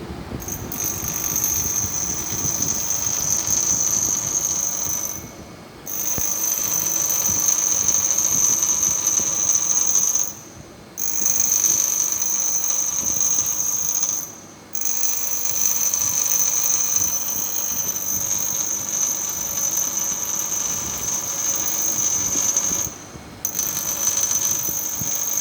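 A grinding wheel works a firmly held workpiece, giving a loud, steady high-pitched whine that drops out in several short breaks as contact is lifted and renewed.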